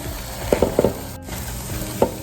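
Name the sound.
eggs scrambling in a frying pan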